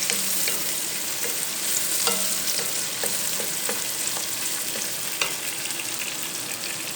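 Onions frying in a pan, sizzling in a steady hiss with occasional pops and faint scraping, close and constant without talk.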